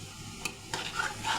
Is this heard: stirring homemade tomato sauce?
yes